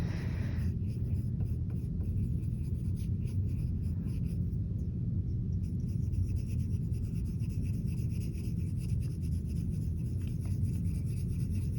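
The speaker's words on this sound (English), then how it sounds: "with that rounding motion with my colored pencil, trying to stay in the lines" A colored pencil rubs steadily across paper in small rounding strokes while coloring in a craft cut-out, a soft continuous scratchy scraping that stays quiet and close throughout with no talking.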